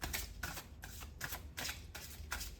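Tarot cards being shuffled by hand in quick, rhythmic riffles, about six soft papery bursts over a couple of seconds. The shuffling is close and quiet, with no talking.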